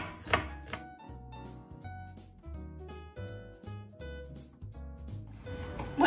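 An onion being finely chopped with a knife on a board, a quick run of close, crisp taps in a steady rhythm with brief pauses, no talking.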